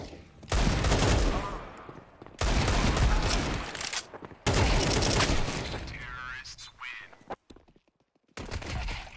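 Gunfire in the video game Counter-Strike 2, several loud bursts of rapid shots separated by short pauses, each burst sharp and close, with a brief fainter burst near the end.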